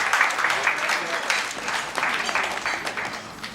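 Wedding guests applaud during a best man's toast, a dense patter of many hands clapping at a moderate level, with a voice or two mixed in, slowly easing off.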